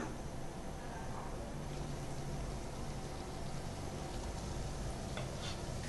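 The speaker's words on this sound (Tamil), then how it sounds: "செஞ்சு வச்சுருக்க கச்சோரியை எண்ணெயில் போட்டு பொரிக்க ஆரம்பிச்சிடலாம்." Steady, dense sizzling of green pea kachori frying in hot oil, a constant hiss with faint stirring and clinks throughout.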